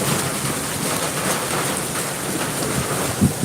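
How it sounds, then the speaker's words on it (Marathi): Heavy rain pours steadily and loudly outdoors, a dense, continuous wash with a brief low thud near the end, and no voices heard. "जबरदस्त पाऊस चालू आहे"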